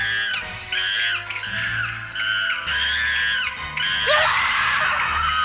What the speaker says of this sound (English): That horrible scream and the tambourines bashing.